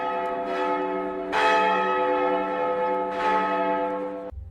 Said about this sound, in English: The church bells regulate daily life.